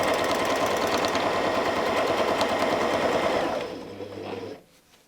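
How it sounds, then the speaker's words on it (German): A sewing machine stitches steadily at high speed during free-motion quilting with a ruler foot on fabric, a dense rapid rhythm that slows and stops near the end, loud and close. "Mit unserem Linealfüßchen können wir ebenso frei quilten"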